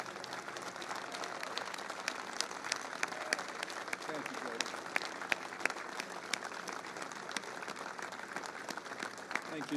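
Audience applause welcoming a speaker at a political rally event: a steady stream of many hands clapping, with sharp individual claps standing out, sustained throughout at moderate distance with crowd noise.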